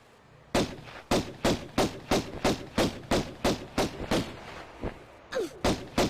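Gunfire in the 1996 video game Tomb Raider: about a dozen sharp, evenly spaced shots in a steady rhythm, loud and close, with a brief gap before the final few.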